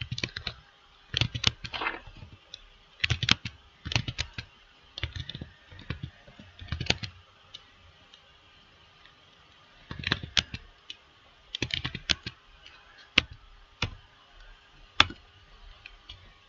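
Keys on a computer keyboard typed in quick bursts as the ng server command for an Angular project is entered, crisp close clicks with pauses between groups, no talking.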